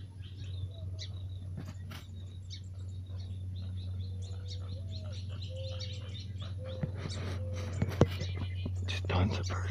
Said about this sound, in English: Hear the coots? There's coots. There's ducks.